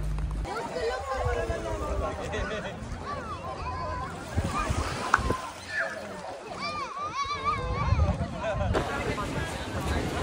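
Busy waterfront din in a crowded bay in Thailand, with splashing water, boat noise and overlapping voices of a crowd, children among them, all blending into a continuous chaotic wash.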